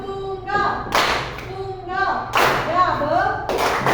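A fourth-grade class claps on cue in a classroom, producing short, sharp group bursts roughly once every second or so. An adult's spoken instructions fall in the gaps between the bursts.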